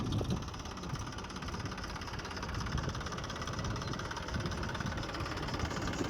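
A Massey tractor engine runs on a farm field, giving a steady low rumble and knocking drone at moderate distance, fairly quiet and unbroken, with no talking.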